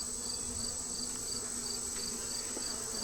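Honeybees hum inside a hive, a dense, steady buzz that stays constant and moderately close, with a few faint clicks and no voices.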